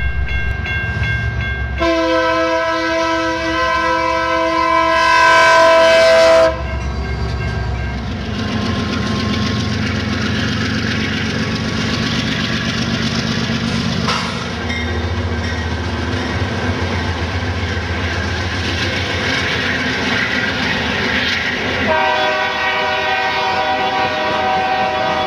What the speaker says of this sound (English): You'll also see all kinds of motive power passing by the camera.